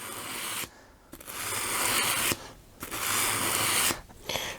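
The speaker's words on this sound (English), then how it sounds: "it's really scuffing it up, but we've got to get those scratches out" A watch bracelet is scuffed to remove scratches, close abrasive rubbing in three long strokes separated by brief pauses.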